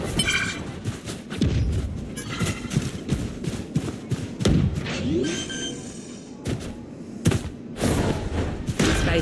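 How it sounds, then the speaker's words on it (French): A grenade goes off in the Valorant video game, giving a dull booming thud among a busy stretch of other impacts, gunfire-like pops and game effects, all fairly loud. "Grenade."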